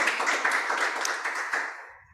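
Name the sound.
applause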